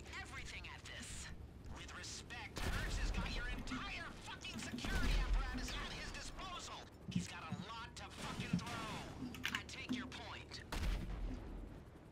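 Gunfire in the video game GTA 5 during the Doomsday Heist, repeated bursts and booms of shooting running beneath the excited chatter of players talking over each other.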